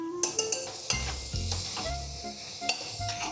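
Curry sizzling and bubbling in a pan in Nepal as ingredients such as ginger garlic paste go in, with close stirring, spoon clinks against the pan and a sharp burst of hiss, no voices.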